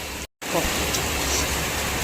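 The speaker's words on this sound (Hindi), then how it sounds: "देखो कितनी ज़ोर से बारिश आ रही है" Heavy rain falls in a steady, dense hiss close by, continuous and loud apart from a brief cut near the start, with no talk over it.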